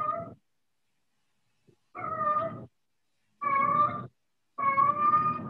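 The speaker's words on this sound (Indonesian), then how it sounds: "Wah, ada kucing nih." A cat meows three times in a slow, spaced rhythm, each call drawn out and fairly close, with silence in between and a faint tick before the second call during an online meeting.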